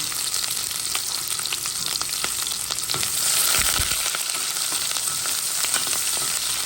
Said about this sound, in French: Je vais mettre de l'huile dedans. Et je vais mettre des oignons.